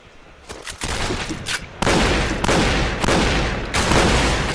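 Rapid gunfire crackles through a competitive video game match, dense overlapping bursts with loud sharp shots stacking into near-continuous fusillade, no voices.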